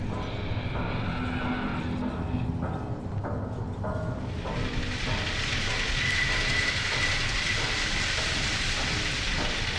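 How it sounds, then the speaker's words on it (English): A tram ride in the Half-Life 2 VR video game, a steady, loud rumble of rail travel with rattling and a whooshing wash that brightens partway through, no voices. "it is kind of like this game's version of the tram sequence"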